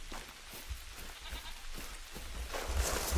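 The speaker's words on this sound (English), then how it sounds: "there is feral goat down there" A feral goat bleats somewhere in a hunting video game, sounding faint and far off beneath a steady wash of wind and ambient game noise, with no talking.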